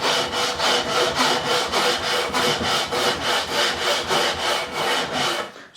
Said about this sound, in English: if I take a coarse file like this and start bringing the glue down, then it becomes a bit easier